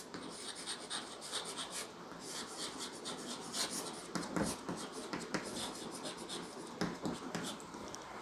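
Chalk or marker scratching across a board while boundary conditions are written out for a physics lesson, a steady run of rubbing, rasping strokes close by with no talk over it.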